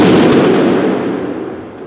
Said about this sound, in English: Let's go ahead and put round number 2 down on target.